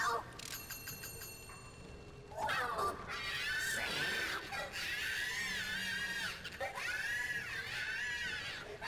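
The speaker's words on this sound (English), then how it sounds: "If you get a monkey bomb, throw it into the furnace here, you can hear it screams" In the Der Riese zombies game, a monkey bomb thrown into the furnace gives out high, shrill screams and shrieks over several seconds, loud and layered with game effects.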